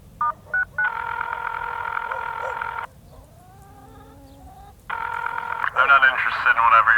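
Telephone redialing tones: short electronic beeps, then two long, steady, loud tone bursts separated by a quiet gap, followed by a busy, warbling stretch of mixed sound at the end.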